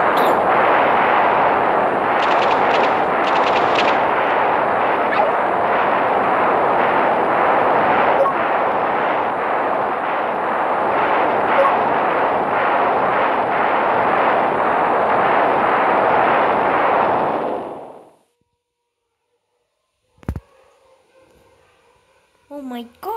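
Heavy artillery salvo in a video game, a loud sustained roar of massed firing lasting about eighteen seconds before cutting off abruptly, followed by a couple of faint sharp reports.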